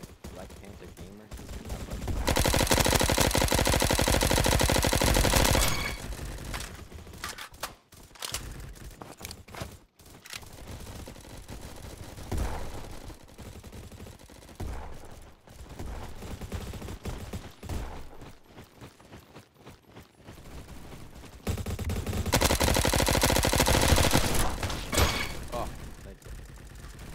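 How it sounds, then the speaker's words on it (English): Bursts of automatic gunfire in the online shooter Bad Business, loud sustained volleys at the start and end with scattered shots between, under in-game chatter and voices. "Why did she shoot?"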